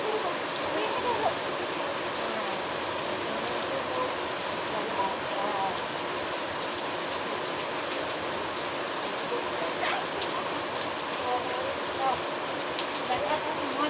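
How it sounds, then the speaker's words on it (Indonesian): Steady rain falls outdoors while a motorbike is washed, a dense even hiss of drops on surfaces that carries on unbroken at moderate level, with faint voices underneath. "Aduh, hujan guys. Hujan."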